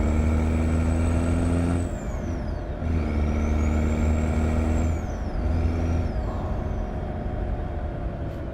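A Peterbilt 389 truck in American Truck Simulator rolls into a fuel stop, its steady engine drone joined by sweeping gear whine that rises and falls, with a brief air-brake hiss breaking the sound near two seconds, alone with no talk.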